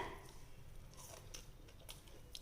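Close, quiet chewing of sweet paniyaram, a fried dumpling made from appam batter with jaggery and ghee, with soft irregular crunches and bites, and nobody talking.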